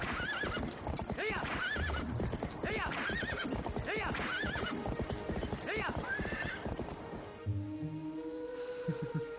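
Hooves clip-clop at a quick gallop through a Zelda: Twilight Princess game scene, joined by loud whinnies and neighs, with a voice talking over the steady hoofbeats before the sound shifts near the end.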